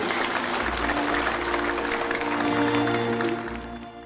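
Applause and cheering at a wedding, a dense crowd clapping continuously and loudly, fading slightly near the end.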